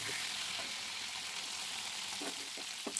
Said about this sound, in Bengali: তো এগুলোকে ভেজে নেব আমি।